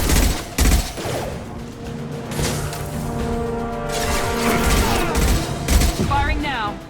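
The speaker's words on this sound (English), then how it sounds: "Open fire!" Heavy gunfire from a Mass Effect 2 battle on a plague-stricken street: dense bursts of shots and booms repeating across the clip, loud and close, mixed with shouted combat voices.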